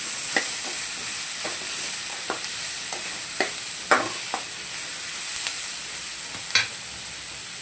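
Vegetable masala sautéed in a pan: a steady low frying hiss runs throughout, broken by about a dozen sharp spatula scrapes and clicks at irregular intervals, close and fairly loud.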